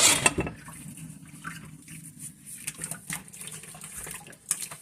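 Tap water runs and splashes as soapy dishes are rinsed at a sink, coming in soft, uneven bursts with short quieter gaps, fairly faint and with no speech.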